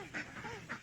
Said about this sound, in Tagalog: panbat and duck, oh